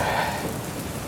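Heavy rain pours down steadily during an evening lightning storm, a dense, continuous hiss of drops hitting surfaces, loud and close, with no voices.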